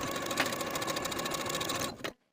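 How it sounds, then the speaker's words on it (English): A sewing machine stitches the center back seam of a skirt with a 5/8 inch seam allowance, running in a steady, fast mechanical whir for about two seconds before stopping abruptly. "Sew from the notch to the hem with a 5/8 inch seam allowance, backstitching at both ends to secure"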